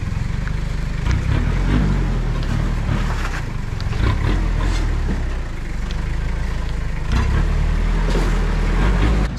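A Toyota Hilux LN106 dual cab on 4.7 gears crawls off-road on reduction gears, its engine rumbling low and steady throughout with small surges, knocks and rattles from the truck working over terrain.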